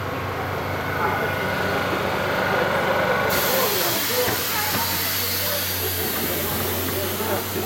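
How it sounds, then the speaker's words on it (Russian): A Hyundai passenger train pulls in with a broad, steady hiss of air or steam that swells partway through, a low rumble running underneath and faint voices nearby. "Приехал поезд,"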